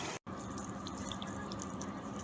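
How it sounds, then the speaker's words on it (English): Coolant pours steadily into the water-cooling loop of a purple overclocked gaming PC, a soft continuous trickle and splash with faint drips, close and quiet, broken by one brief dropout near the start. "You can actually visually see it pouring in there, creating a waterfall cascade"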